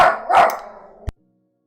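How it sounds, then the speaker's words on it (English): A dog gives a couple of close, sharp barks in quick succession, followed by a brief knock and then silence. "The other dog's barking, so we got him barking."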